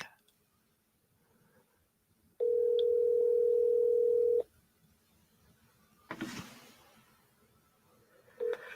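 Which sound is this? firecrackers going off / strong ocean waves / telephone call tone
telephone call tone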